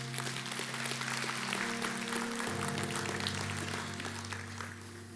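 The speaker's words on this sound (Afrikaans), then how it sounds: "Kom ons gee vir hulle lekker hande klap." Church congregation applauding after a prayer, a steady dense wash of clapping held at even loudness throughout, with sustained organ or keyboard tones underneath.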